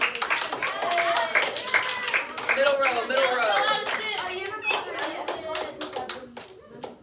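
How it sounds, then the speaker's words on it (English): Students in a classroom clap for a classmate, sharp close hand claps in an uneven burst with children talking and calling out over them, thinning toward the end. "Clap it up for Addison, guys."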